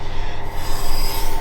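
Metal scraping against the exhaust silencer under a BMW E21 show car on air ride, a continuous close, harsh rasping rub with no talk over it.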